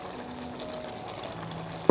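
Potatoes, chicken liver, gizzards, chilies and sliced petai are stirred in a pan for sambal goreng krecek, giving a soft, low frying sizzle with a sharp scrape of the utensil at the very end.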